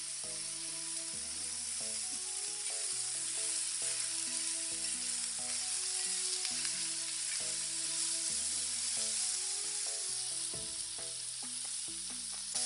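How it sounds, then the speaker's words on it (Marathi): Curry leaves crackle and sizzle in hot oil while tempering a white coconut chutney, a steady loud hiss running throughout with music playing underneath. "याच्यामध्ये कढीपत्ता टाकूया."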